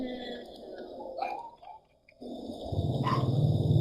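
Dog barking in a video game, a few growly barks and yaps at uneven intervals, with a short quiet gap before louder, denser sound builds toward the end.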